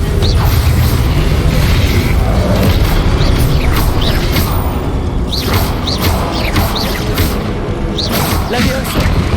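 Blasting spells explode repeatedly in Hogwarts Legacy, heavy booms and crashes layered over constant loud game noise and combat effects.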